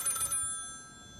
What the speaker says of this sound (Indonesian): Siapa sih malam-malam gini telepon?